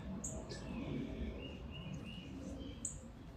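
Small birds chirp in short, high tweets at a few moments, faint against a steady outdoor background hum where a young cat watches them flit around.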